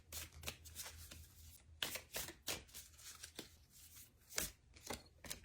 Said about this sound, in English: So let's pull an affirmation card for today.